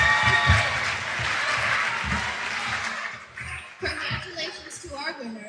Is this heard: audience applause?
yes